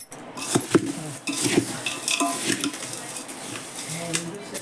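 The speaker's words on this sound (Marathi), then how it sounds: "ह्यात चांगलं मिक्स करते" Dry chivda snack mix is stirred in a metal pot with tempering added, with repeated scraping, rattling clinks of spoon against pan and rustling pieces.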